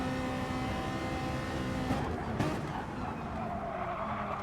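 A Ferrari race car in a GT Sport replay, engine droning steadily at speed with a tire skid swelling briefly midway, loud and continuous with no talk.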